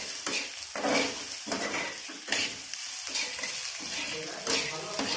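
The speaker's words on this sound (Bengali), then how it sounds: "ভালো করে ভেজে নিচ্ছেন একদম। ভাজতেই থাকতে হবে যাতে কেটে না যায়।" Egg frying in a pan for moghlai paratha, a steady sizzle with repeated scraping and stirring strokes of a utensil against the pan, close and continuous with no talking.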